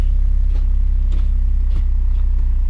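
An Acura RSX engine runs just after its first startup following a K-Tuned clutch master and slave cylinder install, idling with a close, loud, steady low rumble and faint pulsing, no talk.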